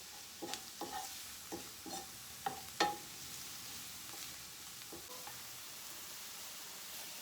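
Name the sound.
quick sauté of eddo leaf bhaji in pan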